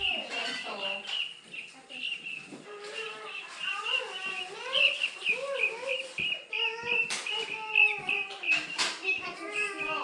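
Baby chicks and guinea keets in a brooder chirp and peep in a steady chorus of high, rapid calls, close by, with some voices in the background.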